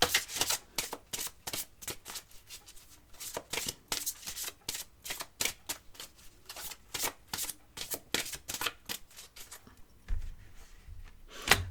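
A deck of cards is shuffled close up in quick, repeated riffles and snaps, ending with a few soft taps as the deck is squared, with no talk.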